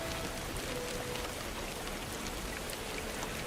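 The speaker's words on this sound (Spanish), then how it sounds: "la lluvia golpeaba su carcasa" Rain patters steadily on a robot's metal casing, a dense, even drumming of drops that holds at a soft, close level with no other sound.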